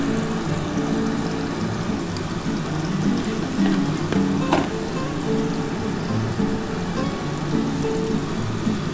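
Chicken tikka pieces coated in spice masala frying in a pan, a steady, dense sizzle that stays even and fairly loud throughout, with no talking.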